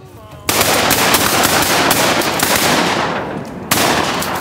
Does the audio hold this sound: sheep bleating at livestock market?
no